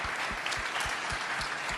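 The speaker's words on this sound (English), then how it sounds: "Yes, please clap to that." A crowd applauds steadily at a press conference, a dense wash of many hands clapping at once with no voices on top.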